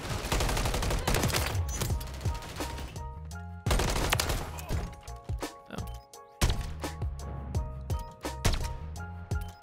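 Gunfire in the video game Call of Duty Modern Warfare 3, three long bursts of rapid automatic shots, loud and close, separated by short pauses with scattered single reports between.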